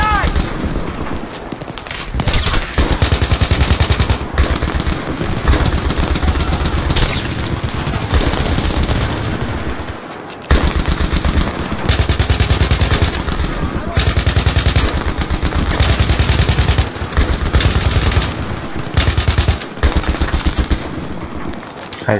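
Gunfire fills a firefight in the video game Battlefield 3: loud, nearly continuous bursts of automatic weapons with single shots and short breaks, and voices call out now and then over the shooting.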